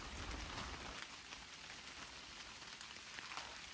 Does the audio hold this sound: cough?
no